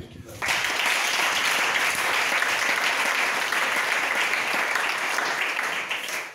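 A church congregation breaks into loud, sustained applause and acclaim for the Lord. It begins abruptly after a brief quiet moment and holds as a dense, steady roar of clapping for about six seconds, with voices mixed in, before easing off at the very end.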